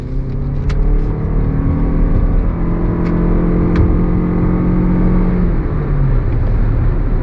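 A 2023 Lexus RX 350h hybrid's 2.5-liter engine labours hard under throttle alongside its rear electric motor, a steady, loud droning rise in engine note heard from inside the cabin, with no talking.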